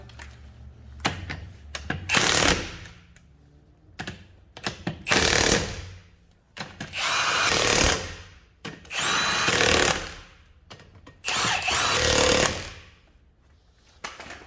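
A power tool on a Dodge Ram rear lift kit install fires in repeated bursts, tightening fasteners in a star pattern, several short whirring runs separated by pauses.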